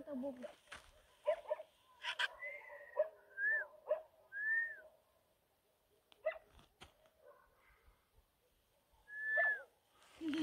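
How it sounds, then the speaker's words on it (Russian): A small dog barks in short, scattered bursts from a distance on a quiet winter night at a fishing spot by water, with a few faint whistling tones in between. "Собачонка лает."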